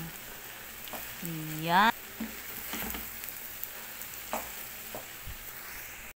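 Biko sticky rice is stirred with latik and coconut in a pot, giving soft, repeated scraping and sticky stirring strokes with faint sizzle, while a voice briefly speaks early on.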